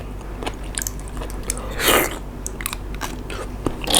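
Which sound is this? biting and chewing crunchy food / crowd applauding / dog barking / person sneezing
biting and chewing crunchy food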